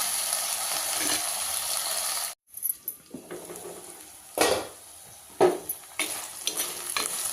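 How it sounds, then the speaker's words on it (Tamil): Eggplant frying in oil in a home kitchen for a Tamil brinjal thokku: a loud, dense sizzle that cuts off abruptly, then quieter frying with several sharp clanks and scrapes of a ladle against the pan, and no talking. "இந்த கத்திரிக்காய் போட்டுக்கலாம் இது வந்து கொஞ்சம் நேரம் எண்ணெயில் வேகட்டும்"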